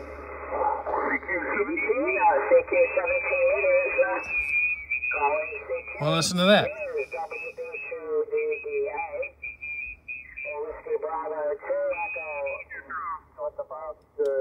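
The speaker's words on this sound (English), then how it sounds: "here on the 17-meter band, for some reason, listen to this. There was a QSO going on right here." Amateur radio voices from a QSO on the 17-meter band come through a receiver, steady continuous sideband speech with a brief burst of interference partway through, and a person comments briefly over it.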